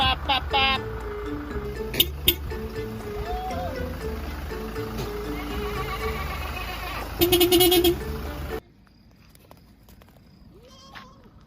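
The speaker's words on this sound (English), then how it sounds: "Goats stopped us in the road." Goats bleating on a road in Africa while blocking a vehicle, several close bleats over vehicle engine noise and people talking, ending with a quieter stretch.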